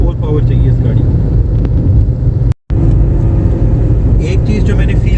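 A Toyota Belta 1.3 cruises on a motorway at 3500-4000 rpm, its engine drone and road rumble heard from inside the cabin with a voice talking over it, cut by a brief dropout midway.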